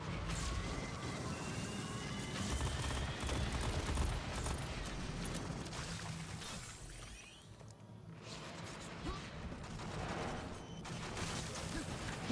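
Gunfire rattles in a video game as players shoot at turrets, with bursts of shots and crashing impacts layered over a busy, steady mix of effects and a briefly quieter moment midway, while a player talks.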